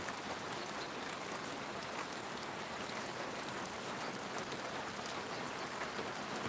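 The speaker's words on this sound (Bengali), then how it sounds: "এখনও বৃষ্টি হচ্ছে" Steady morning rain falls over the Phulpur area, a dense, even hiss of drops hitting surfaces that fills the whole stretch without pause or voices.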